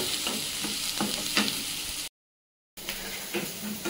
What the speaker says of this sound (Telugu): ఇది మనం ఇప్పుడు బాగా ఫ్రై చేసేసుకోవాలి.